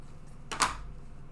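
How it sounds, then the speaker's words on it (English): Scissors snip once through the sewn hem of a fabric piece for a no-sew Christmas ornament, a single brief crisp cut alone against quiet room tone. "And I am going to actually cut this sewn hem off here."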